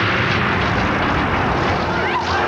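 A stunt plane flying at an air show produces a loud, continuous engine roar that fills the whole moment without pause.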